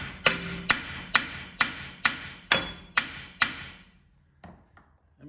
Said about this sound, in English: we're gonna get a hammer and I'm just gonna go around